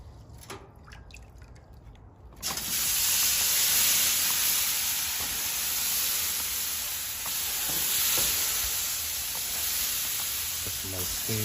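A hot Grill Rescue cleaning brush, just pulled off a grill with its burners turned off, is plunged into water and releases a loud, steady hiss of sizzling steam after a quieter opening couple of seconds.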